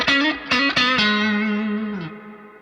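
Fender Stratocaster electric guitar plays a few plucked notes and a sustained chord through heavy reverb and effects, the tail ringing out and fading over a couple of seconds.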